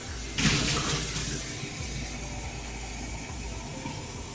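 Hot tap water pours into a cup to warm it, a brief louder gush followed by a steady soft hiss of running and steaming water, close and alone.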